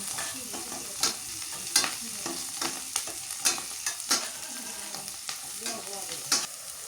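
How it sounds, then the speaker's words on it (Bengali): Onion and green chili fry in a pan with a steady sizzle while a spoon scrapes and stirs in regular strokes, each scrape sharp and close above the background crackle. "পেঁয়াজ মরিচ ভাজা হয়েছে"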